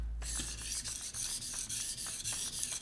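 A chipped knife blade scrapes back and forth across a whetstone near its heel in quick, regular rasping strokes, close and clear with no talking.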